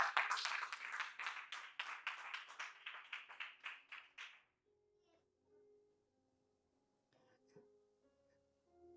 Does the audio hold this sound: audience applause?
yes